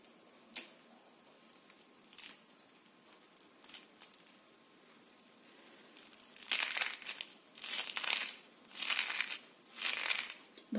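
Crispy fried chakli (murukku) is snapped and crunched close up, a few sharp isolated cracks at first, then a quicker run of louder crunching breaks, with no talking.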